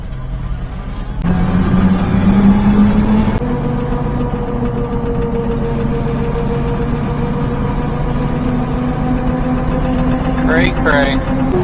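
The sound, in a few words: mini-truck engine lugging up a hill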